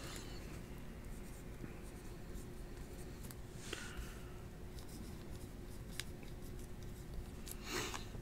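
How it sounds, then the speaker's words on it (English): A pen scratches on paper while notes are jotted down, faint close scribbling strokes with a few small taps, steady over a low room hum. "Let me write it down."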